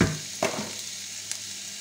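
Lardons fry in a hot pan, a steady sizzle with a short clatter as they drop in and a light tap afterward, close and alone.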